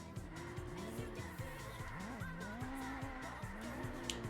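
A Honda NSX races downhill at a grip section as its tires squeal in rising and falling wails over a steady engine drone, all fairly faint and distant.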